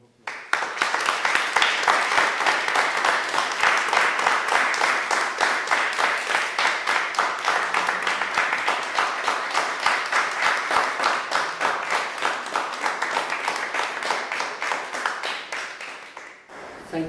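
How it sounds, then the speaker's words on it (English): An audience at a Global Dignity event claps steadily for the learners, a dense, sustained round of applause running loud and even for the whole stretch before it cuts off abruptly. "I'd like all of us who are sitting or who are not learners to please give these learners a round of applause."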